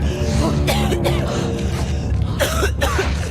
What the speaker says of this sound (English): Nora instantly starts coughing as the infection takes hold